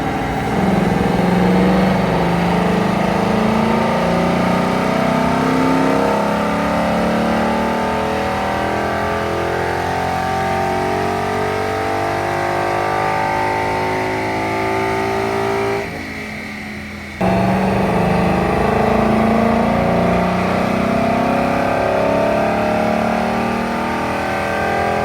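A first-generation Ford Mustang engine revs hard on a dyno and holds at high pitch for a long stretch, briefly dropping off before roaring back up; no voices.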